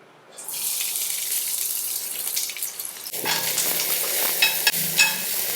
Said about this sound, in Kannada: 1-2 ಚಮಚ ತುಪ್ಪ ಬಿಸಿ ಆಗ್ತಾ ಇದ್ದ ಹಾಗೆ ಹೆಚ್ಚಿದಂತ ಅರ್ಧ ಕಪ್ ಈರುಳ್ಳಿನ ಹಾಕ್ತಾ ಇದ್ದೀನಿ